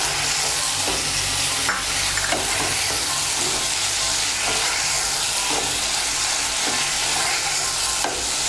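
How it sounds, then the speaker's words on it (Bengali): Water is added to papaya frying with poppy seed paste in a pan, and a loud, continuous hissing sizzle follows, broken by regular spatula strokes about once a second. "আমি পোস্ত বাটিটা ধুয়ে সামান্য একটু জল দিচ্ছি।"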